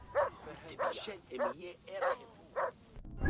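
A dog in Assassin's Creed Origins barks or yips about five times at an even pace, fairly close, with each bark separated by brief pauses over quiet game ambience.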